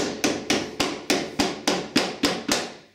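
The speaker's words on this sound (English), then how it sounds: "Carefully inserting the little leg into the groove that's here, and using a nylon mallet," A nylon mallet taps a UPVC door glazing bead into its groove: nine crisp, evenly spaced knocks, each fading quickly. The knocks are close and fairly loud, with no talking.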